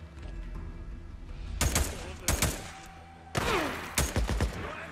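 Gunfire in the video game Days Gone: several loud broadband shot bursts in quick succession, the first pair about a second apart and then a denser volley near the end, over a steady low game-ambience bed.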